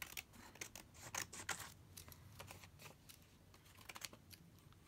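Scissors cutting paper while a journal is being made, giving close, quiet snips and rustles in irregular bursts, with some softer crinkling between cuts and no talking.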